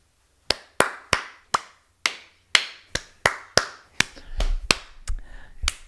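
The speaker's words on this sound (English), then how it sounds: "hand claps, please" Sharp hand claps ring out one at a time in a steady, deliberate rhythm of about a dozen, close and loud, with a low rumble creeping in beneath the last few.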